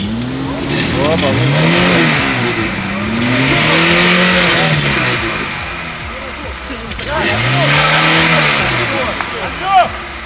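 A Lada Niva off-road in mud at a forest trophy event, its engine revving hard in rising and falling surges as the wheels spin, loud and close, with people shouting over it.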